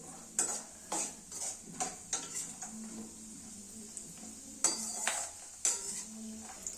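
Dry fruits frying in a pan until brown, a quiet sizzle under a series of sharp spoon clinks and scrapes against the metal pan.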